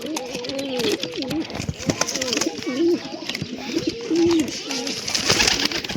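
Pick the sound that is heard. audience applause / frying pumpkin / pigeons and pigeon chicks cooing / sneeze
pigeons and pigeon chicks cooing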